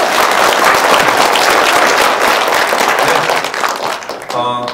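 A room full of attendees at a press conference applauds loudly, a dense burst of clapping that holds steady and then tapers off near the end, with a voice starting to speak as it fades.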